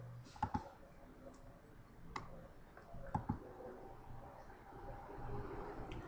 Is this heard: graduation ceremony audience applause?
no